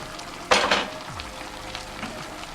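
Fried tomato stirred into porridge yam, a Nigerian asoro, in a pot: a short scraping, mixing burst over a steady sizzle and simmer, then quieter bubbling with light utensil taps.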